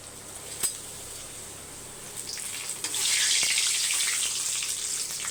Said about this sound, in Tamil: இப்போ வந்து அப்பளம் பொரிச்சிக்கலாம்.